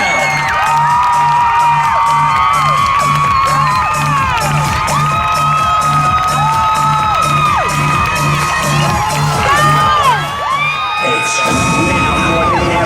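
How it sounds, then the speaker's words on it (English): A large crowd at a cheerleading competition cheers, whoops and shouts continuously at high volume, with a steady rhythmic thumping beat underneath. The noise stays dense throughout and dips briefly near the end. "make some noise for Amy and her son Bryce"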